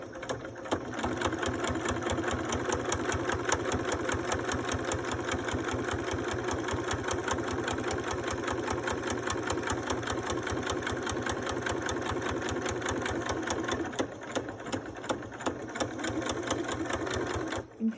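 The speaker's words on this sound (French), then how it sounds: "Et maintenant, on va tracer une couture de là jusque là." A sewing machine stitches a fabric face mask seam about 7 mm from the edge, running at a fast, steady mechanical rhythm close by with hardly a pause, then stopping briefly near the end.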